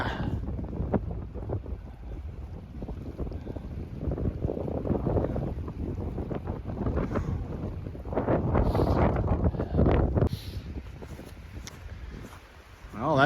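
Strong wind buffets the microphone beside Sunburst Lake in Mount Assiniboine Provincial Park, a rough, gusting roar that swells and fades over the open lakeshore, with a person speaking now and then under it.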